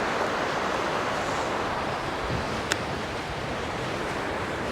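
Wind and rolling waves at sea while fishing from a boat in the Bristol Channel, a steady broadband roar of gusts and surf with one brief sharp tick partway through.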